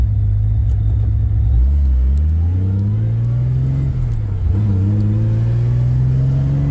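A low, droning rumble comes from an untuned car's engine on a highway drive, steady and loud close up, its pitch sliding up and down as the driver accelerates and eases off.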